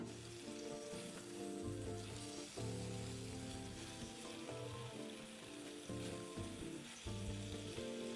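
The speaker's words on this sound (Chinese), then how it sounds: "炉开文火，不粘锅，倒点油，再将肉块放入，煎至两面微焦" Meat chunks frying in oil in a non-stick pan over low heat, a continuous close sizzle with crackles and occasional bursts as the pieces are moved.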